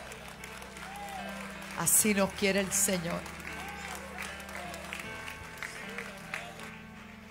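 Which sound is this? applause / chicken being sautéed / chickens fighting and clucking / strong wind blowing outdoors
applause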